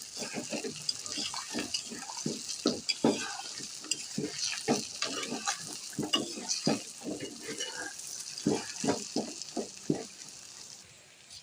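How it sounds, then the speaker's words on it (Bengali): Pointed gourd (potol) fries in a pan with a steady sizzle, punctuated by repeated scraping stirs of a spatula against the metal at an uneven rhythm, close and moderately loud, with no talking. "আমার পটলটা ভাজা হয়ে আসছে।"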